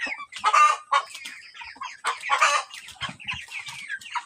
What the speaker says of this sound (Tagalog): Yan yung ating 45 days na manok.